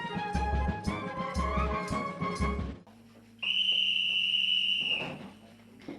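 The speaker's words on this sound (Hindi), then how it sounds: "ठीक 10 बजे की सीटी ऐलान करती है सोने के वक्त का।" At an Indian Army training camp, a sharp, sustained whistle signals 10 pm bedtime, sounding for about a second and a half after a stretch of rhythmic music with pulsing low beats.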